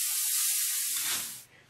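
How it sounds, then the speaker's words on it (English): A Haan FS-20+ steam cleaner blasts a strong, steady hiss of steam at close range, then the jet tapers off and fades into a softer, rougher rush. "Plenty of power, plenty of steam, going to kill all the germs."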